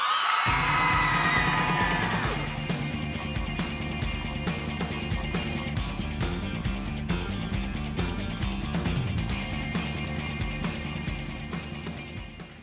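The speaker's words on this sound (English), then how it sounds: "give a huge round of applause" A conference audience at an opening session cheers and whoops loudly for an elementary school award recipient, then the shouting settles into sustained applause with music playing underneath.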